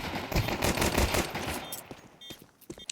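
Rapid automatic gunfire in a Counter-Strike match at a professional tournament, loud dense bursts of shots for about two seconds, then sparser single pops.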